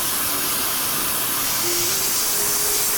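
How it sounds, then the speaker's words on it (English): Steam and water blasting from the blow-down valve of a 7¼-inch gauge Hunslet miniature steam locomotive boiler, a steady loud broadband hiss that holds throughout with no talk. "So I open the blow down and start evacuating the water and the steam from the boiler."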